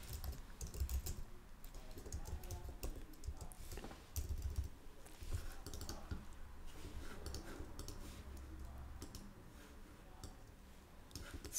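Quiet, rapid keystrokes on a computer keyboard as a card number is typed into a Figma design, with irregular bursts of clicks and short pauses.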